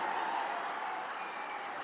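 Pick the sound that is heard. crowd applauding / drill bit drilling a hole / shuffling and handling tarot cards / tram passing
crowd applauding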